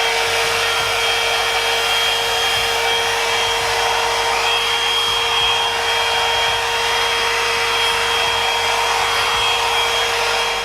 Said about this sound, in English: this is when I get the blow dryer